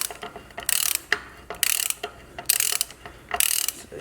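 A ratchet wrench clicks rapidly in four separate bursts while tightening bolts on a Dana 60 axle, with short pauses between strokes, close and fairly loud.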